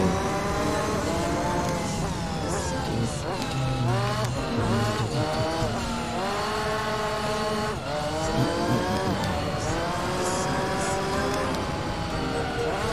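A Toyota GT-One road car racing in Gran Turismo 3, its high-revving engine screaming and dipping through repeated gear shifts, loud and continuous, with someone talking over it.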